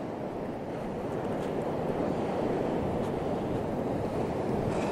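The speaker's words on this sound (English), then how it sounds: "This wave right here, let's see what it does, if anything." Ocean surf at Devil's Punchbowl in Newport, Oregon, rumbles as a steady broad wash of crashing water mixed with wind buffeting the microphone, continuous and fairly loud with no voices.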